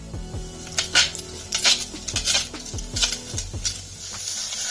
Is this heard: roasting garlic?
yes